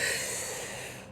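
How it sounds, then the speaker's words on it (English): One long, deep breath drawn in through the nose during a breathing exercise, a close, airy hiss that fades out near the end. "Okay, now inhale"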